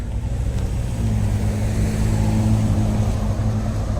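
Car traffic rolling along a downtown street in Waxhaw, North Carolina, a steady loud engine and tire rumble passing close by, continuous with no talk.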